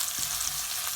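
Onions, ginger and garlic fry in a pan for dal fry, giving a brief, close and continuous oily sizzle.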